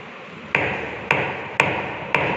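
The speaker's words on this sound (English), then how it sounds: "And it will be counting the number of blows given to the soil." Four evenly spaced sharp metallic taps ring out as a liquid limit device cup drops onto a soil sample in a lab test, each blow loud and close with a short ringing decay.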